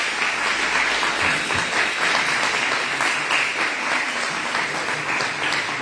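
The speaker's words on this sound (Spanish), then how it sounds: "Denle fuerte aplauso al Señor" A church congregation gives a loud, sustained round of applause, dense steady clapping filling the room for several seconds with no one speaking over it.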